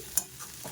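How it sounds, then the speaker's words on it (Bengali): Cabbage greens fry with onion and garlic in a home kitchen, a brief soft sizzle with a quick stirring scrape near the start, close and fairly quiet. "পেঁয়াজ দিয়ে রসুন দিয়ে কপি শাক ভাজা"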